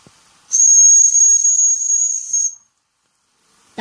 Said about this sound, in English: Just whistles super loud.